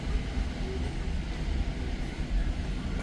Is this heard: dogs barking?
no